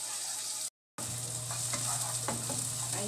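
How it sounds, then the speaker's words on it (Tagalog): Onions sizzle steadily in a pan for a leftover pasta noodle frittata. A constant hiss carries a few soft scraping stir strokes, with a brief dropout early on and no talking. "Haluin lang natin ng haluin as usual."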